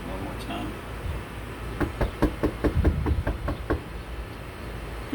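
Knuckles rap on a house door in a quick series of about nine sharp knocks, near and fairly loud, with a brief pause before the run begins and faint room noise around it.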